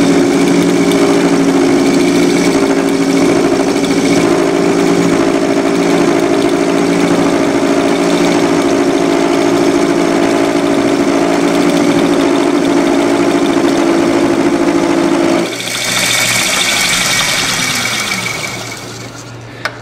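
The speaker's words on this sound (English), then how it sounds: "I feel like I need to tighten up the gibs on my lathe here just a little bit" A metal lathe turns a small model crankshaft, with a steady, loud, droning whir of the running machine and cut. The drone stops abruptly after about fifteen seconds, leaving a lighter, fading hum.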